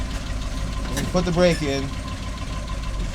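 An old GMC K20 pickup truck engine idles steadily with a low rumble and knocking undertone, close by, while someone talks over it.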